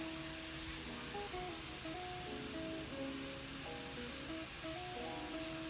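Blended homemade Nigerian Chapman cocktail juice poured through a strainer, a steady, even rushing trickle lasting the whole clip, with soft music playing underneath.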